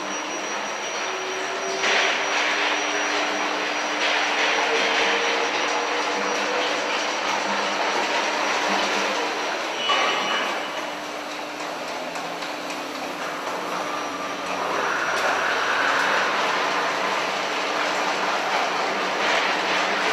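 A TC 8 gondola lift cabin at Pas du Lac rolls through a switch at low speed, then accelerates with a loud, steady mechanical roar and rising whine, alone and close throughout.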